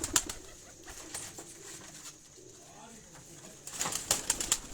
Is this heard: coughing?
no